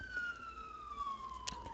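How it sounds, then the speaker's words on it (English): A real police car siren outside, a long slowly falling wail heard at a distance under a steady background hum, with a brief bright click near the end. "that's an actual police siren outside"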